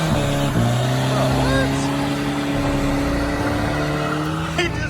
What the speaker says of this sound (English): He just had a burnout in a Volvo.